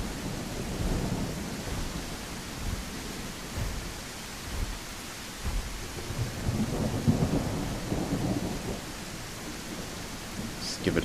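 Steady rain fills a video game's outdoor world, a dense continuous hiss with low rumbles and soft patter, moderately loud and unbroken throughout.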